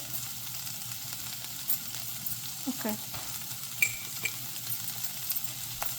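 Bitter gourd slices fry in a pan with chili powder. A soft continuous sizzle runs under a few faint scrapes and light metal taps from stirring, quiet and close.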